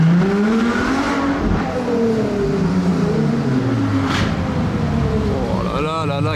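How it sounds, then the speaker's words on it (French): A LaFerrari Aperta V12 revs close by during the Monaco Grand Prix, its loud engine note climbing and falling in several sweeping pulls before rising sharply again at the end. "Oh là là là, quel V12."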